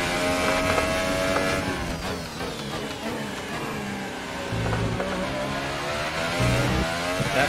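A race car engine revs and shifts continuously in a racing simulator game, the loud motor note climbing and falling through gears over several seconds with no talking.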